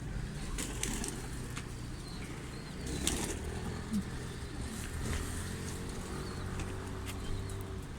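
Pigeons on a rooftop platform built atop a shanty house, with wings flapping and soft cooing scattered across a steady outdoor background hum and occasional distant traffic.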